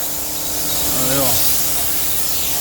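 Steady hiss of spray painting on a 1938 SS Jaguar drophead body in a restoration workshop, loud and close, with a brief tonal whine rising and falling midway.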